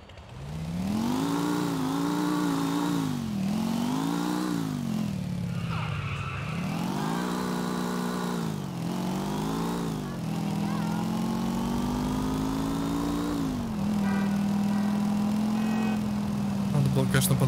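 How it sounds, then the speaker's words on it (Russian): Motorcycle engine in the video game GTA IV, revving and shifting pitch repeatedly as the bike accelerates and slows, steady and loud throughout with continuous rising and falling whine. "Отсутствие опыта езды на мотоцикле сказывается."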